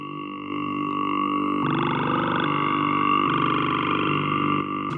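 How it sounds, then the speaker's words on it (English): A Pigments 3 synth plays a vowel wavetable with the formant filter turned off, giving a sustained buzzy tone that steps through several shifting pitch and timbre changes, steady and fairly loud, with no voices. "Now, it's a vowel wavetable. So if I'll turn off the formant filter, it's going to sound like a vowel."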